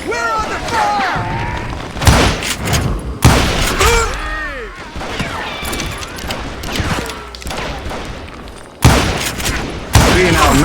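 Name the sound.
gunfire in the video game Call of Juarez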